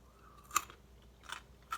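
Raw beet crunches as it is bitten and chewed, with three short, crisp crunches spaced apart against a very quiet background, close to the mouth.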